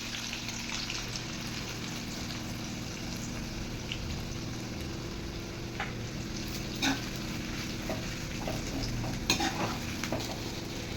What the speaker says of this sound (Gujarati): હવે આને આપણે તેલમાં ગોલ્ડન બ્રાઉન ફ્રાય કરી લઈશું.